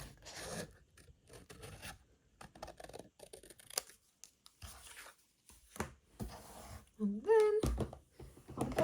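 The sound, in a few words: cutting paper around a stamped shape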